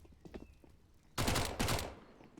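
Two quick bursts of MAC-10 submachine gun fire in a Counter-Strike match, loud and close, each burst a dense rattle lasting about a third of a second, following quieter background game sounds.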